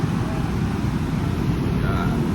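Road traffic rolls past a roadside gym as a continuous, fairly loud wash of vehicle rumble and engine noise, steady throughout without clear individual passes.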